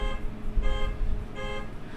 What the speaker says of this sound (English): How long is this alarm go off for?